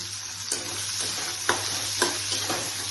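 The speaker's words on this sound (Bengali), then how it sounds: "পেঁয়াজ দিয়ে দিচ্ছি, এভাবে সব আমি ফ্রাই করে নেব।" Onions frying in a pan alongside tomatoes, giving a steady close sizzle with a few soft scraping stirs at intervals, no voices.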